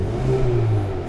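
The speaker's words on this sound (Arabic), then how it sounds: "تسمع صوت الكزوز الحين يتغير" A 2022 Hyundai Kona N Line's exhaust revs as the car accelerates, a brief loud engine drone rising slightly in pitch, close and steady.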